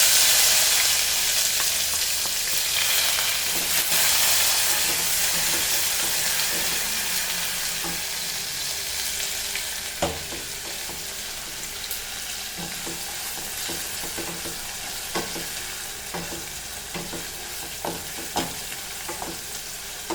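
Onion fries in a pan for Goan coconut dal, starting as a loud bright sizzle that gradually eases, with frequent light clicks and scrapes of a spatula stirring through the second half, and no voices.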